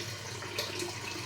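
Water runs and trickles steadily from a homemade eucalyptus-leaf steam distillation setup cooled with a bucket of cold water, a close, continuous liquid splashing.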